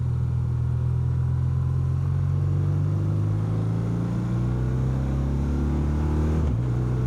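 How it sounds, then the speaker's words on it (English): A BMW R12 nineT motorcycle's boxer twin engine and exhaust give a loud, steady, deep rumbling drone at close range, with a brief dip in pitch near the end as if shifting gear. "Between the exhaust and the engine, they really got a nice note out of this Boxer Twin."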